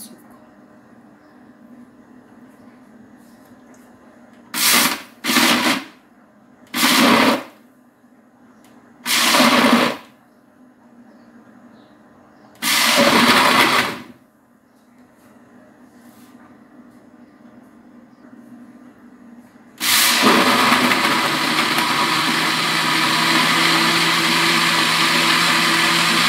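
Lemon and melon juice whirs in a blender through several short pulses, then runs loud and steady for the final stretch; someone talks faintly in between.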